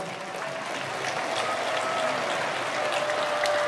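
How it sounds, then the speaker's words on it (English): A large event crowd applauds steadily and loudly for sponsors throughout, with continuous dense clapping and a faint tone running underneath. "Give them a round of applause."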